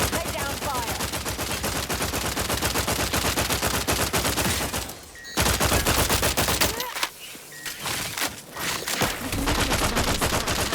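Dense, sustained gunfire from a shooter battle in the video game The Outer Worlds 2, rapid loud bursts filling the scene with brief lulls partway through, a faint voice now and then under the shooting.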